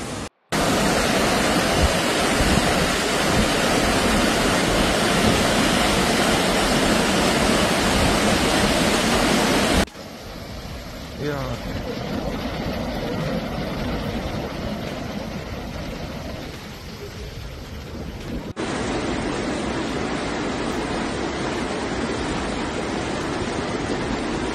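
Torrential floodwater rushes through Zermatt, Switzerland during flash floods, a dense, loud, unbroken roar. The roar shifts in level at abrupt cuts but never pauses.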